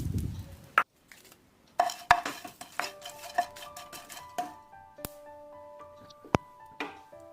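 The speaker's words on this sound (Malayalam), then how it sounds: "ഇത് ഇതിനകത്തിട്ട് നന്നായിട്ടൊന്ന് വറുത്തെടുക്കാം" Dried shrimp being dry-roasted in a pan, with a spatula scraping and tapping the metal in irregular knocks and clinks, some ringing briefly, close and fairly loud with short pauses between.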